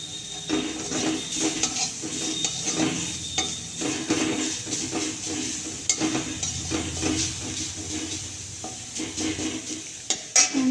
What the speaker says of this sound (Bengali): পেঁয়াজটা একটু ভাজা ভাজা হয়ে যাবে একটু গাজর দিচ্ছি